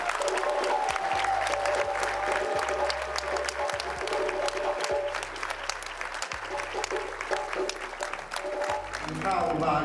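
Loud, sustained applause and cheering from an event audience honoring a group of men from Oakland, California, dense clapping that fills the whole stretch over a steady, deep musical bass beneath.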